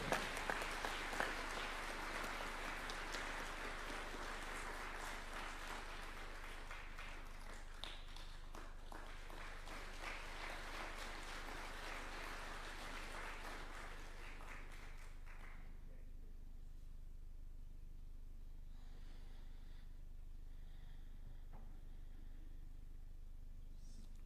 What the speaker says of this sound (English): Another clap would be in order.